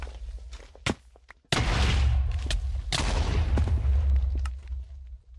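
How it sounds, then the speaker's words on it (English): Shrapnel grenade blast in a Minecraft superhero mod, a few light footstep-like taps, then a loud booming explosion with a long rumbling tail and a second burst overlapping it, fading out at the end. "Okay, I just blew myself up."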